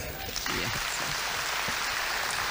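Applause from a crowd at a 1993 Aidilfitri festival event, a steady patter of clapping that starts after a brief pause and continues evenly to the end.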